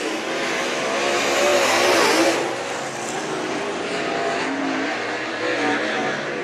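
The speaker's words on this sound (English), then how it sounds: "Chad Bauer comes down to take the white flag. 1 lap to go." Race cars at Mt. Pleasant thunder around the oval on the final lap after the white flag, a loud continuous engine roar swelling as the pack passes close by, then holding steady.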